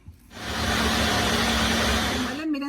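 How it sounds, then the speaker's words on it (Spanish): A blender runs at full speed grinding softened chiles and spices for Michoacán mole, a loud steady whirring roar that starts abruptly and cuts off near the end, with a brief voice as it stops. "Ahora las voy a moler"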